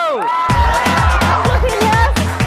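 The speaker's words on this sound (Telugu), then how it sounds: "ఇక్కడ అమ్మాయిలు అరుస్తారు చూడు" A group of girls shout and cheer loudly in high, excited voices over rhythmic thumping in a television show studio audience.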